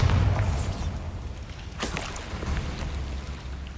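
A Bombarda blast spell in the Hogwarts Legacy video game goes off with a loud low boom at the start, then a second burst about halfway through over a rumbling, crackling tail.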